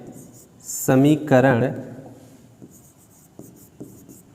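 A pen scratches out an equation in short, steady strokes during a Class 10 linear-equations lesson, heard close and fairly clear, with a brief burst of voice near the start.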